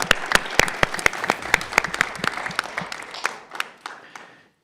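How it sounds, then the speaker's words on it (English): A small audience at a maritime industry event gives a round of applause, sharp individual claps in a fairly quick irregular rhythm that thin out and fade over about four seconds. "So I think we should give them a round of applause."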